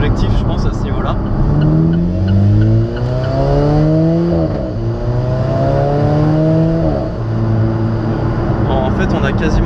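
Alfa Romeo 4C Spider's 1.7 TBI turbo engine heard from the cabin while driving, loud, rising revs through repeated gear changes with a close engine drone, and someone talks over it.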